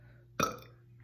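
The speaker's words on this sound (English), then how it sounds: "Like I smelled that burp." A single loud, close burp after a swig of Diet Coke, a sudden rasping belch that swells and then trails off, with a steady low hum underneath and no talking.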